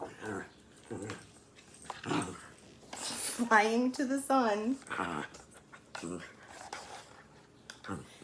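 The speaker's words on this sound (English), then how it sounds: "You can see my dog." A pet dog whines and whimpers in a high, wavering series near the middle, close by and fairly loud, while a woman reads a story aloud before and after it.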